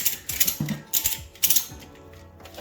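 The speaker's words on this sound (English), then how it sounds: "you can literally just crank up the ratchet strap" A ratchet strap wrapped around the top of a car gearbox while stripping a turbo Commodore, cranked in a few quick bursts of ratchet clicking separated by short pauses, close and fairly loud.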